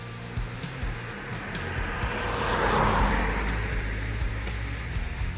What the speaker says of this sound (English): I'm gonna wait for this car to pass before I continue talking